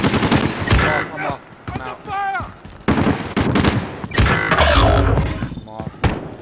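Rapid bursts of automatic gunfire and thudding impacts in a Warzone match, loud and close, with players shouting excitedly over the shots.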